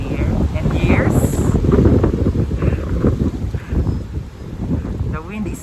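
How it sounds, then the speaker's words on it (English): Strong outdoor wind buffets the microphone in steady, loud gusts that rise and fall throughout, with a person talking over the rumble. "The wind is getting stronger in here."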